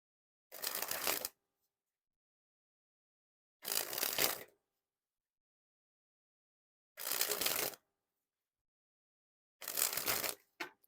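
Art of Play Standards Flag Edition playing cards sprung from hand to hand in four separate bursts, each a quick rapid flutter of lighter, softer cards lasting under a second, with silence between.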